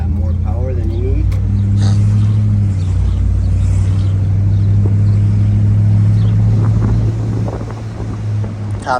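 A 1963 Chevrolet Impala SS convertible with the top down accelerates on the road, its engine a loud deep steady drone under heavy wind rush, with a voice talking over it.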